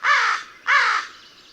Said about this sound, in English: Their versatile calls range from caws to rattle.